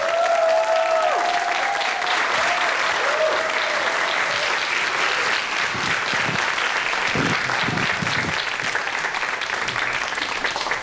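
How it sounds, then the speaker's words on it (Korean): Sustained applause from a studio audience greets a lecturer walking onto the stage of a Korean science talk show, steady and dense for about eleven seconds, with faint music or voices fading out near the start. "큰 박수로 맞이해주십시오"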